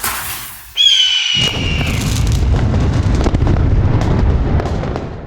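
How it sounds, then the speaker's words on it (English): A fireworks effect in a video bumper: a rising whistle gives way to a loud, sustained booming crackle of bursts that roars on for several seconds. "Fireworks and eagles this time."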